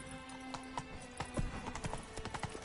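Rapid hoofbeats of a galloping horse in Witcher 3: Blood and Wine clatter in an irregular, sharp rhythm at moderate volume, with a faint neigh early on.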